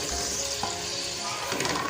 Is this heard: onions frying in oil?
yes